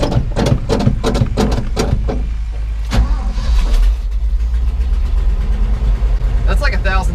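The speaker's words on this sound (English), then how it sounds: "I don't hear any hissing, and this thing is actually idling" A dump truck engine idles with a steady low rumble, close and loud, after several sharp clanks and knocks near the start, while a person talks intermittently over it.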